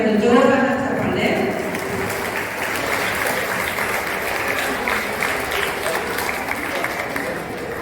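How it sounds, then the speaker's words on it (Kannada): An audience at a day-eight Navaratri celebration claps loudly for Sudha Madam after her students' performance, a dense, steady wash of many hands that stays strong for the whole stretch. "ನಮ್ಮ ಸುಧಾ ಮೇಡಮ್ಗೆ ಒಂದು ಜೋರಾದ ಚಪ್ಪಾಳೆ."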